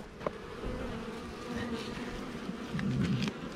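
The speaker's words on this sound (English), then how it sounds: "Don't screw around in these hives a lot. They're working." Honey bees swarm and buzz at an open beehive during a nectar dearth, a steady close drone filling the air with no voices.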